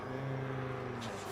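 A truck drives in a sandy video game level, a steady close engine drone with a low humming tone, brief and unbroken, no voices.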